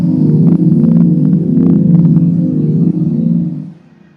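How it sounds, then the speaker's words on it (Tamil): Tata Curvv EV's artificial pedestrian warning sound (AVAS) plays from a speaker as a steady, low, throbbing hum, close and fairly loud for several seconds before fading near the end, with no talking. "அக்யூஸ்டிக் வெஹிக்கல் அலர்ட் சிஸ்டம் அப்படின்னு சொல்றாங்க."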